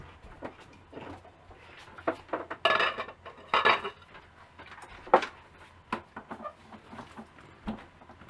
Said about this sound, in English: Why don't you take a lid and cover it up?